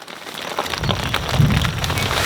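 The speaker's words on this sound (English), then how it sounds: "you can probably hear the rain is starting to come down." Rain beginning to come down on the ground in a summer vegetable garden, a steady close hiss of drops patting the surface that swells slightly, with a low rumble underneath and no voices.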